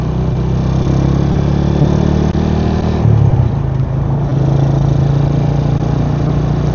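A Yamaha LC135 motorcycle engine running, heard loud and close from onboard as a steady mid-pitched hum with a brief rev partway through, no voices over it.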